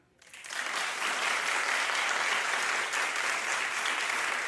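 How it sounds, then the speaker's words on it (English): A television talk show studio audience breaks into clapping after a brief silence, quickly swelling to a full, even round of applause that holds steady to the end. "Clap."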